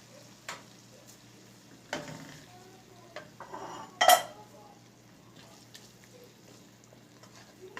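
Ojhri masala stirred and scooped from a pan, with a few sharp metal scrapes and clinks of a spoon against the pan standing out over a quiet hum, the loudest clatter near the end.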